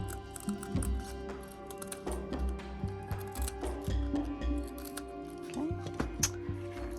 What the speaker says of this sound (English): it's easier to go in and trim the rest of the excess off around the bottom